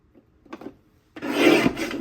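A paper trimmer slices through card stock for a card kit, with a few light handling taps first and then one sustained, close rasping cut lasting about a second.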